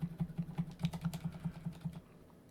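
Arrow keys on a computer keyboard are tapped in a steady run of about a dozen quick, muted clicks. They are close but quiet and stop abruptly near the end, leaving a faint room tone.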